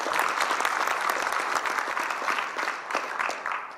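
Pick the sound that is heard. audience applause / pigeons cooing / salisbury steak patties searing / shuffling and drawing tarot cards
audience applause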